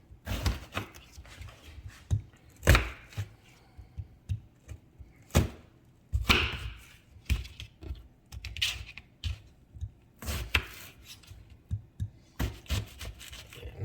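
A knife chops peeled vegetables into large chunks on a cutting board for a pork roast with baby potatoes, carrots and onions, giving scattered sharp thunks and scrapes at an irregular pace, close and fairly quiet.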